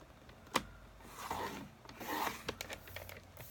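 A scoring tool is drawn along paper for a card pouch, producing soft, close rasping strokes, a few short rubbing passes with a small click near the start.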